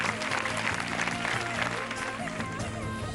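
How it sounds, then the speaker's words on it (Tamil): A studio audience at a television game show claps steadily throughout, a full, continuous burst of applause layered over background music. "நல்ல கைத்தட்டு."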